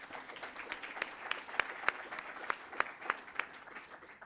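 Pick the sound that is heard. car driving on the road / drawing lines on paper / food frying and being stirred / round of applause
round of applause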